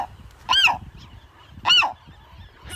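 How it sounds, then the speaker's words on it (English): Two loud, harsh honking calls from young seagulls on Anacapa Island, about a second apart and close by, with quiet background between them. "Oh, baby birds."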